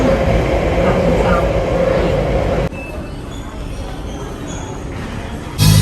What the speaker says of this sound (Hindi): ये देख लीजिए चाइना की मेट्रो ट्रेन इस तरीके से होती है